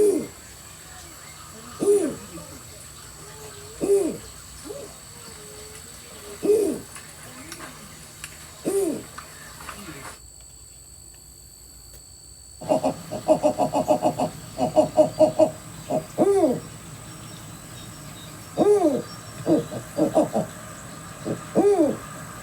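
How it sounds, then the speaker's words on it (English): A snowy owl gives repeated low hoots at regular intervals of a couple of seconds, over a faint hiss, with a brief silent gap before the hoots resume, slightly faster and clustered. "this is our friend, the snowy owl. So let's take a listen to what he sounds like."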